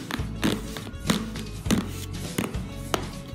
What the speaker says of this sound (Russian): Сейчас я накрываю контейнер плотно крышкой.